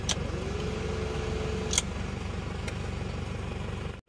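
An Isuzu Panther LS diesel with automatic transmission idles smoothly and evenly, a steady low rumble close by, with a couple of faint sharp clicks and a brief cutoff near the end.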